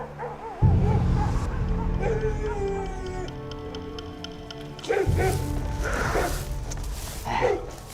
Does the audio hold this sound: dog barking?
yes